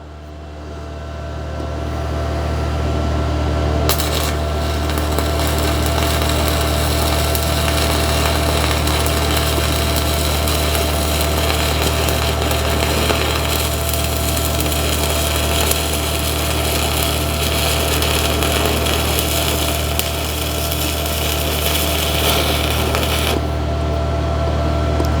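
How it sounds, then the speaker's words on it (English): An Arccaptain MIG250 welder does a first stick-welding attempt, giving a continuous loud crackling, hissing arc buzz that holds steady for about twenty seconds over a low electrical hum, with no talking. "You guys literally just witnessed my very first stick weld attempt."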